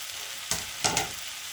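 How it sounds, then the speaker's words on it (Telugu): Mushrooms drop into a pan of cooking tomatoes for a gongura mushroom curry, a steady close sizzle with two short bursts of louder hiss as they hit the hot oil. "మష్రూమ్స్ వేస్తున్నాను"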